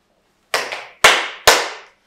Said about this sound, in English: Then clap three times.